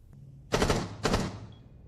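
Two short bursts of automatic gunfire crack out in a small carpeted room in Rainbow Six Siege. Each burst is loud and tight and dies quickly with little echo.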